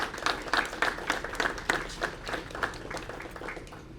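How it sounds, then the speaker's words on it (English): Audience applauding police department staff at a Sarasota city announcement, a sparse round of individual hand claps with uneven rhythm, moderately close and fairly faint, fading slightly toward the end. "can give them a round of applause in terms of their service to the community"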